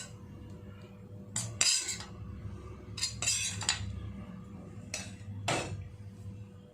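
Fried okra pieces tipped into a grinder jar while making okra chutney with red chillies, giving a few sharp clinks and scrapes of metal and ceramic against a steady low kitchen hum, with no talking.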